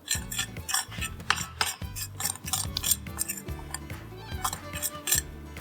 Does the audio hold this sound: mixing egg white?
yes